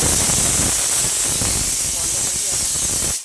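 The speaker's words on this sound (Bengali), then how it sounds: "ছোটো মেয়ের জন্য স্যুপ বসিয়েছি দুটো সিটি দিয়ে দিয়েছে আর একটা সিটি দিলে বন্ধ করে দেবো" Steam hisses steadily from a pressure cooker whistle while soup cooks on a home stove, a loud continuous rushing release that fills the whole stretch and cuts off abruptly at the end.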